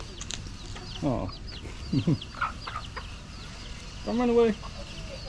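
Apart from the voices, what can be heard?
chickens and chicks clucking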